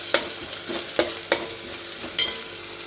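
Onions, curry leaves and ginger garlic paste frying in a pan for crab gravy, a soft steady sizzle broken by several sharp scraping stirs at irregular intervals, close by and without speech.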